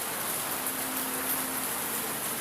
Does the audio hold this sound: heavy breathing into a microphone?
no